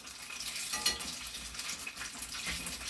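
Jamaican fried dumplings crackle and sizzle in hot oil for a breakfast of ackee and saltfish, a busy steady frying hiss with little pops and one brief sharper crackle.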